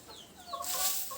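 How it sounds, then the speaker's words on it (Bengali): Hens and roosters calling in the morning at a home where the birds are kept in a stairwell room, a short faint cluck followed by a louder burst of hissing and clucking. "সকালটা শুরু হয় মোরগ মুরগিদের ডাকে"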